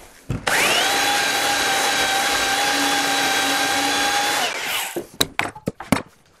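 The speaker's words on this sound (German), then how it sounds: "Auf jeden Fall schleife ich jetzt die Kanten." A power sander working the edges of a wooden workshop bookshelf, a loud, steady whine that runs for about four seconds and then winds down, followed by several sharp knocks and clatters.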